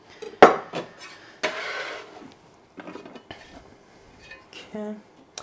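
A knife cuts green onion stems coarsely on a board, giving a sharp knock followed by irregular chopping taps and scrapes, close and fairly loud, with a short clink near the end.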